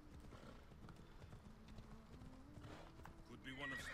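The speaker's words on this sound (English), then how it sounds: "Magic horse, let's go." A horse's hooves clip-clop in a rapid, steady rhythm while riding in the video game Assassin's Creed Odyssey, heard faintly under game voices and ambience.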